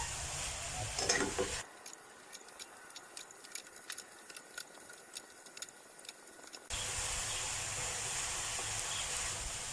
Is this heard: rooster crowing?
no